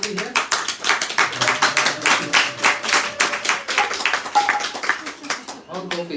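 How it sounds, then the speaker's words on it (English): Devotees clapping in rhythm during a festival talk, a brisk steady run of hand claps filling the whole stretch, with voices faintly underneath. "And all the gopis start clapping to see this."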